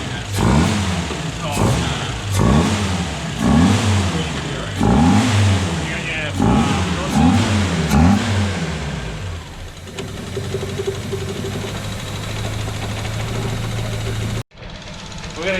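A Datsun 620 engine fitted with Megasquirt fuel and spark injection revs in a run of rising and falling bursts, then settles to a steadier drone before cutting off abruptly, with voices heard alongside.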